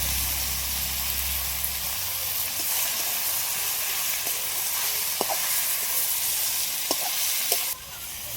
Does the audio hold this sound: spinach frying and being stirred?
yes